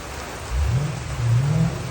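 Heavy rain falls in Australia, a steady close wash of drops with a low rumbling swell in the middle.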